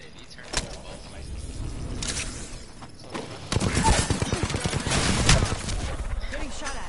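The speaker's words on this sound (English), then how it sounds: "Getting shot at." Bursts of video game gunfire, scattered shots early then a longer, louder stretch of rapid rattling fire and impacts, with game noise underneath throughout.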